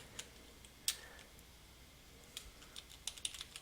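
Keys on a computer keyboard click in sparse, quiet bursts, a few isolated taps followed by a quicker run of keystrokes near the end, with no voices.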